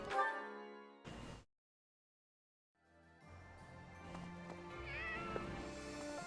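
A cat meows in the video game Fire Emblem: Three Houses, a couple of short cries near the start, then a brief silence before soft game music and ambient sounds come in.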